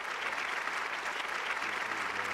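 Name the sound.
crowd applause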